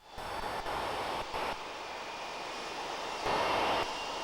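Engines of an airborne observatory airplane with a 90 cm telescope, climbing to about 12,000 meters, drone as a steady, broad roar in flight, with slight swells and no talk.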